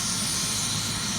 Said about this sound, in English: I believe one helicopter seemed like it's finna take off in a minute. I can hear it firing up.